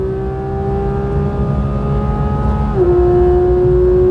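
Porsche GT3 RS with a ported throttle body pulling hard in second gear, a loud steady engine drone whose pitch climbs continuously, briefly dips around a shift or lift, then keeps rising, close and alone.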